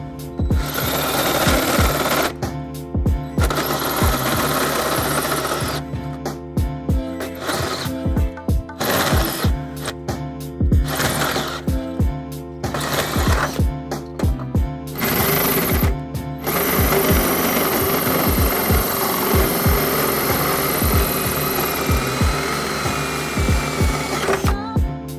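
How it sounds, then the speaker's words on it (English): Loud power drilling with a hole saw into the frame of a 2018 BMW X1 during a trailer hitch install grinds on and off in repeated bursts with brief pauses, then runs steadily near the end, with no talking. "Now that I grab my hole saw, I'm going to go ahead and drill into my pilot hole."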